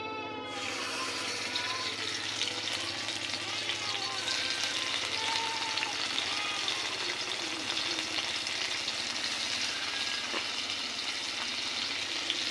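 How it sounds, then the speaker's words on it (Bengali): Magur catfish dropped into hot oil, a steady close sizzle and crackle that swells right after the start and continues evenly, fairly quiet overall. "তো এবারে মাগুর মাছগুলো দিয়ে দেব।"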